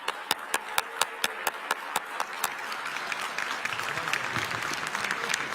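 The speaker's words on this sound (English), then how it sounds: "Everyone stand up, and as loud as you can, as strong as you can, for 3 seconds. Start clapping now." An awards-ceremony audience, standing on request, claps: first slow, evenly spaced loud claps, then a dense burst of applause and cheering from the crowd for a few seconds.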